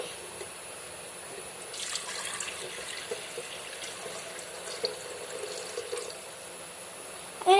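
Water poured into a kettle for tea makes a soft steady stream of liquid, fairly faint and continuous, with a brief brighter splash as it fills, and no talking.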